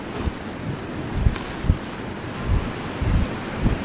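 Rushing whitewater from a level 3+ river rapid during a rafting run, a steady broadband roar with low thumping surges and wind buffeting the microphone.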